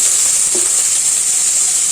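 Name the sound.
chopped ridge gourd added to sizzling pan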